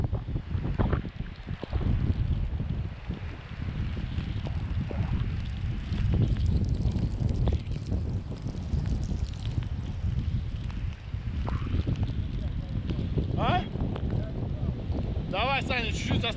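Strong, gusty wind on a mountain in Norway buffets the microphone with a heavy, constant low rumble that swells and dips throughout, and voices are briefly audible beneath it.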